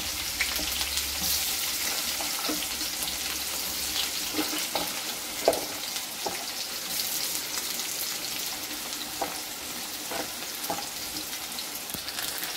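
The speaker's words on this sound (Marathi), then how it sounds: "आपण बारीक केलेला कांदा टाकून घ्यायचा आहे। कांद्याला छान परतून घ्यायचं।" Finely chopped onion sautés in a pan with oil and already-fried mustard seeds and cumin, giving a steady, close sizzle throughout with occasional louder crackles and stirring scrapes, no talking.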